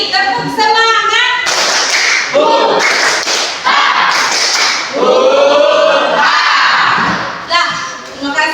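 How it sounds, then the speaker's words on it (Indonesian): Classroom students doing rhythmic spirit clapping, loud patterned bursts of claps and thumps mixed with chanting voices and children's shouts, close and energetic. "Lagi, tepuk semangat."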